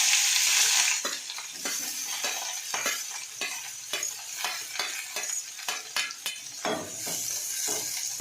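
Soft sizzling of onions frying in oil in a pan, with repeated scraping and stirring strokes at an uneven rhythm.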